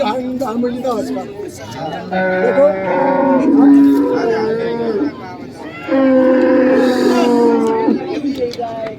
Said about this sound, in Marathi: बघा गाय चांगली आहे